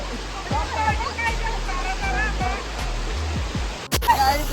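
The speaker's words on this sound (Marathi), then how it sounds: "आम्ही धबधब्यावर बसतो" Rushing water of a waterfall forms a constant roar while several people talk and call out loudly over it nearby.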